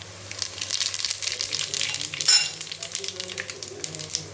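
Cinnamon and cloves frying in hot oil give a steady, close sizzle with crackling throughout and a brief louder pop partway through.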